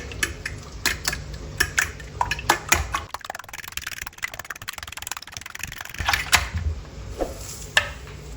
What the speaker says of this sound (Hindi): अब इनको अच्छी तरह फेंट लेंगे।